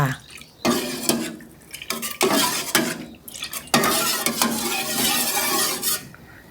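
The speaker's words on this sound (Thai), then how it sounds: "ยายก็จะใส่ น้ำใบเตยลงไปนะคะ ผสมกันไปเลย" Pandan juice is stirred into a pot of melted agar jelly mixture, giving repeated scraping and clinking strokes of a utensil against the pot in an uneven rhythm, close and fairly loud.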